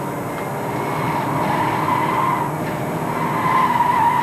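Engine of a 1989 Porsche race car under hard braking into a corner on a club championship circuit, a steady loud in-car drone with a faint tyre squeal rising toward the end, no talk.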